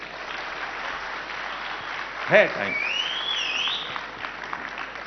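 A concert audience at the Ideas of India 2025 event claps in a steady, moderate wash, and a whistle rises briefly partway through while someone speaks over it.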